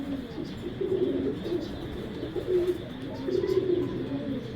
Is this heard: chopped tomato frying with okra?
no